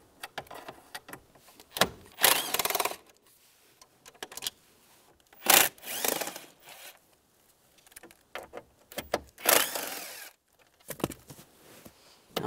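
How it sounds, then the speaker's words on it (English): A T20 socket ratchet takes three screws out from under the dash of a 1998-2010 Volkswagen Beetle. Several short bursts of rapid ratcheting clicks come up close, with quiet pauses between them and no talking. "Underneath here, there's three screws. I'm gonna take those out, same T20 socket."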